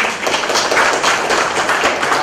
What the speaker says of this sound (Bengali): আমি জনাব শেষ হায়দার চৌধুরী স্যারের জন্য জোরে একটা করতালি দিব